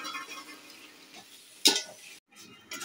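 Tomatoes go into sautéed onions in a pan for chicken biryani, with a soft, low frying sizzle, a sharp clatter of tomato pieces hitting the pan partway through, then a brief pause.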